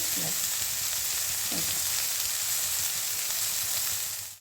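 Eggplant sukto cooks in a pan with a steady, close frying hiss throughout, and a couple of brief scraping stirs land near the start and again around the middle-second mark.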